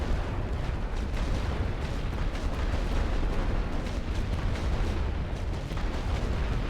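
Light artillery fire in the WWI strategy game The Great War: Western Front, a dense continuous barrage of booms and blasts rolling without pause at steady loudness.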